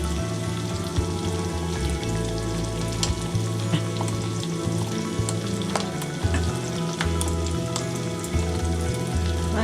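Beef stroganoff with cream cheese and sour cream sizzles and bubbles in a pan, a close, steady crackle of frying with scattered sharper pops and a low simmering rumble, with no talk.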